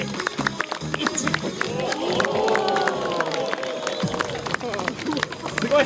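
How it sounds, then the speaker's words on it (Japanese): A live audience at a juggling street show cheers and shouts together in a loud collective roar that builds and peaks mid-clip, surrounded by scattered clapping and voices. "大の歓声は全員にいってもらっていいですか"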